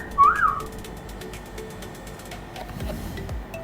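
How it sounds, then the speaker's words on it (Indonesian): A single short whistled note that rises and falls, heard near the start, followed by a few seconds of quiet room noise. "Ini saya merekam suara siulan dan diulangi sampai menghasilkan 8 audio sampel."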